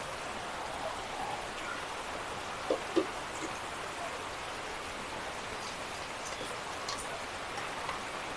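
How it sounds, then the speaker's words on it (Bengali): Steady, fairly quiet rain falling on a calm day without wind, heard as an even wash of patter with a few scattered drip ticks near an outdoor cooking spot. "বৃষ্টি হচ্ছে কিন্তু বাতাস নেই বলে রক্ষা"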